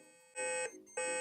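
A Clarisonic skin-care brush gives two loud electronic beeps: a steady multi-tone tone for about a third of a second, a short gap, then a second beep starting, close and clear with no talk.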